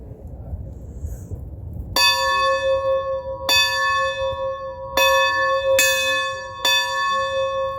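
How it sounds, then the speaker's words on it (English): Two bells are rung in Nashville, about five clear, loud strikes at uneven intervals. Each ring hangs on long after it is struck, following a quiet rustling start. "the first thing I see is some bells for me to ring, and I decided to ring both of them."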